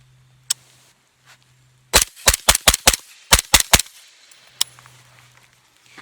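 An AAC 7.62 suppressed rifle fires a rapid string of about nine sharp, close cracks, with a few isolated clicks before and after over a faint low hum.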